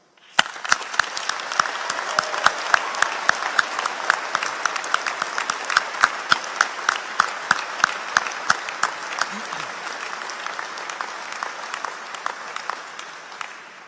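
A graduation ceremony audience at Lincoln College honours World Teachers' Day with sustained applause, dense steady clapping that swells, holds for about thirteen seconds and tapers near the end.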